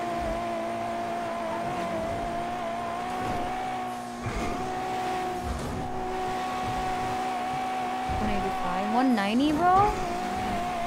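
A car cruising at high speed hums with a steady engine drone and road noise, pitch shifting and rising near the end as it accelerates; someone speaks briefly over it.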